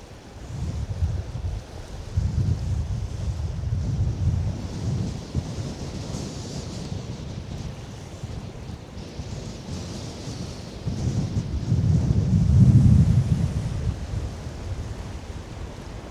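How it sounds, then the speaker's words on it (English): Strong wind roars across the microphone on the North Wales coast during a sea fishing trip, a heavy low rumbling buffet that swells and eases in gusts, loudest near the end. "it's blowing a hoolie and that wind is getting rough"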